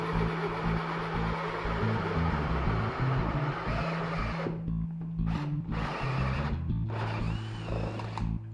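A 3.5 inch hole saw on a drill bores an opening in wood, a loud, steady grinding whine that briefly drops out and restarts near the end.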